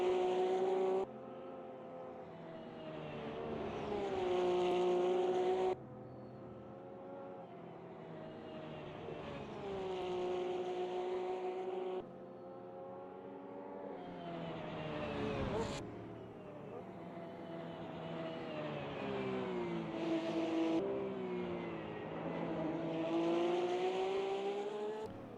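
Porsche race cars at the Bathurst 12 Hour roar past in a steady, loud engine drone that rises and falls through gear changes, with sudden shifts in pitch as the cars go by.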